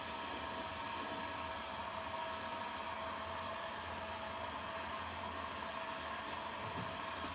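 A heat gun runs steadily on a Ford car body panel in a garage, a constant airy whir with a blowing hiss that holds at an even level throughout, with no talk.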